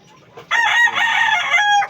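A rooster crows once, loud and close, a long drawn-out call with faint background noise before it.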